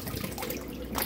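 Cold tap water runs into a sink used for rinsing dyed plastics, giving a soft, steady splashing hiss at low level with a slight surge at the end.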